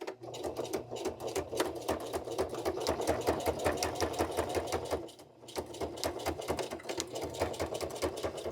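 Sewing machine stitching through a thick pleat of curtain fabric, running steadily in a dense mechanical chatter with a brief pause midway before resuming, close and alone without talk.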